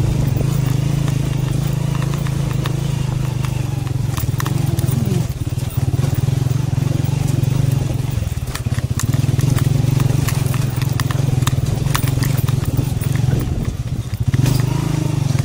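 A motorcycle rides along a rough stony road on a long track toward Tilla Jogian, its engine droning steadily and loudly while the ride rattles and thumps over rocks, with no talk.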